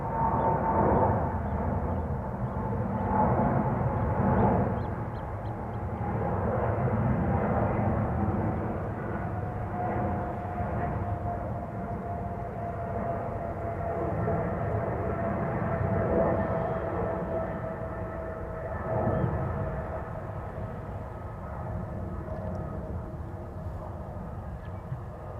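A 20-year-old KLM Boeing 777-200 jet airliner at Schiphol Airport makes a sustained jet roar that swells and eases gently over about twenty-five seconds, heard at a distance with no talk.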